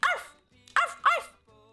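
A person's voice imitates a small dog barking, giving three short, loud, yappy barks close to the microphone with brief pauses between them, followed by a quieter tone at the end.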